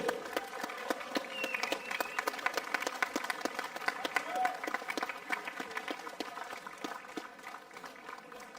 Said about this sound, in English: Big applause for Anthony.